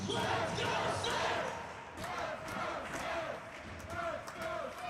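Spectators at the Hamilton Community Ice Arena during an Indiana Sentinels versus Danbury Hat Tricks hockey game make a busy crowd din with claps and bangs, fairly distant and steady.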